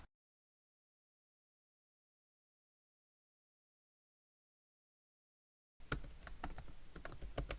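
Quick keyboard typing on a computer as an error message is entered into an AI chat prompt, bursting in loud and close after nearly six seconds of silence and clattering steadily to the end.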